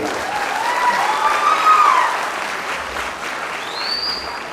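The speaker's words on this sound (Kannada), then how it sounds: "ನಿಮ್ಮ ಅಪ್ಪಗೋಸ್ಕರ ಒಂದು ಚಪ್ಪಾಳೆ ಹೊಡಿಬೇಕು ಮೇಡಮ್" An audience at a Kannada Rajyotsava speech claps in a dense, sustained round of applause that swells and then fades, with a couple of whistles cutting through near the middle and end.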